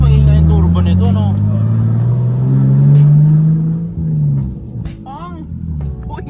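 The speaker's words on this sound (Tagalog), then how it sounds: "Parang mas maingay yung turbo nito" A Nissan Skyline ER34 GT-T turbo engine drones and rises in pitch under acceleration, then eases off and fades, with people talking over it.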